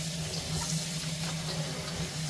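Vegetables being washed for kimchi under running tap water, a steady hissing splash with a faint electrical hum underneath, continuous and close.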